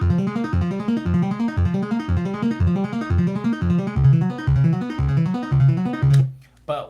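Synthesizer arpeggio from a DAW, evenly spaced repeating notes cycling in a steady rhythm with a bright, buzzy tone, loud and alone, stopping abruptly near the end.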